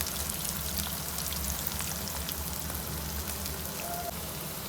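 Homemade beef burger patty frying in hot oil, a dense, steady crackling sizzle that stays loud and close throughout without a break and with no voices over it.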